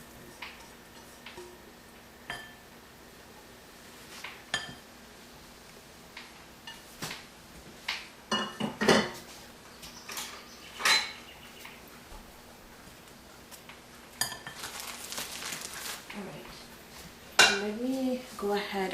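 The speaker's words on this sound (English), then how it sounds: "I'm going to go ahead and transfer the potatoes in here." Curried potatoes being scooped and transferred into a pan, giving scattered clinks and scrapes of a utensil against cookware, some sharp, with quiet gaps between and a brief voice near the end.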